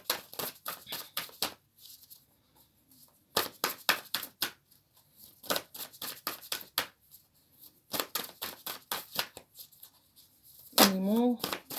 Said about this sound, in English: They're very big cards to try and shuffle.